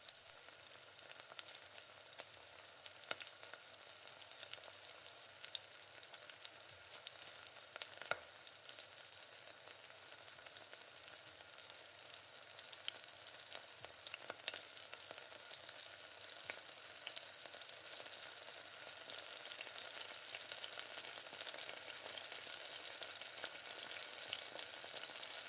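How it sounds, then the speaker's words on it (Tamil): A prasadam mixture for Ganesh Chaturthi is stirred as it fries in oil, giving a faint, steady sizzle with occasional light scraping ticks throughout and no voices. "ஒரு 3 நிமிஷம் 4 நிமிஷம் அப்படியே எண்ணெயிலே நல்லா புரட்டி விட்டுக்கோங்க"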